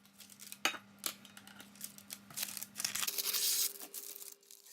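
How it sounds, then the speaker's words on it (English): Grease-proof parchment paper is snipped into a circle and crinkled close by with scissors, a few sharp cuts and rustles over a faint background hum. "Cut out your grease-proof circle."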